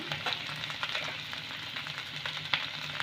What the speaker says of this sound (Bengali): বাটা মশলাটা একটু ভেজে নেব।